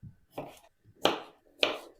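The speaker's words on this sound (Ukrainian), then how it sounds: "Чотири огірка нарізаю маленьким кубиком." A knife dices four cucumbers into small cubes on a board, giving three crisp, evenly spaced chopping strikes up close with no talking.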